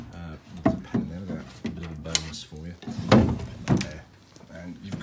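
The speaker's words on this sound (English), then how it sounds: "so that now these drawers will open." Wooden drawers of an antique Lebus roll top desk slide and thunk open and shut several times, close by, under a person talking.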